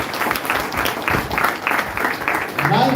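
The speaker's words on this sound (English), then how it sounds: "So let's give Gift a big round of applause." An office audience claps in a brief burst of applause, close and fairly loud, with uneven rhythmic clapping and some voices mixed in toward the end.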